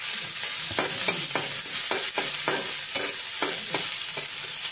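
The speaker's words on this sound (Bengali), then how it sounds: "পেঁয়াজটাকে আমি ভালোভাবে ভাজবো, আর এর মধ্যে দিয়ে দিচ্ছি 3টে চেরা কাঁচা লঙ্কা।" Onions frying with three slit green chillies in a hot wok over low flame, a steady close sizzle broken by repeated rhythmic scrapes of a spatula stirring.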